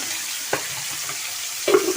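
Small fish frying in a pan in a home kitchen, a steady broadband sizzle with a couple of brief louder spurts of spatter or stirring, close and without talk.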